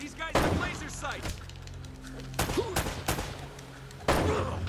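Bursts of gunfire in the Uncharted video game, several sharp shots and volleys spread through the clip, loud and close, with a voice talking in between.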